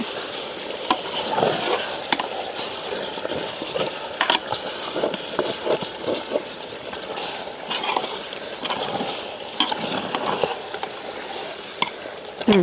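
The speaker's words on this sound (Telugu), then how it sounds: "బాగా కలుపుకుందాం" Chicken leg-piece dum biryani stirred in a pot with oil, a loud continuous close sizzle with scraping stirs throughout.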